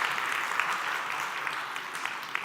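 A congregation claps together at the close of a prayer in a Korean Sunday church service: a dense, even wash of many hands applauding at once, steady and fairly full throughout.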